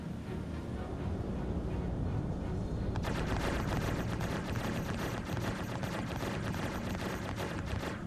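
Heavy ballistic cannon fire in a space combat game, loud dense rapid bursts that swell sharply partway through into a continuous booming barrage.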